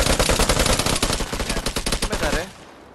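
Rapid automatic gunfire in the Vigor video game on PS4 rattles off in loud, closely spaced bursts for over two seconds, then cuts off abruptly into quiet.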